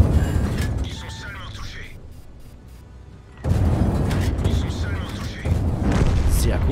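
Artillery shell explosions in World of Tanks, a heavy booming blast and rumble that drops away into a quieter lull before another loud impact and rolling aftermath, mixed with speech.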